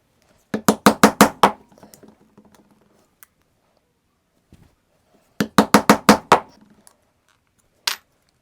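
A chisel hammered into leather in two quick bursts of about six sharp, close taps each, separated by quiet, with a single final strike.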